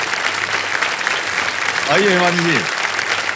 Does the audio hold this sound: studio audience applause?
yes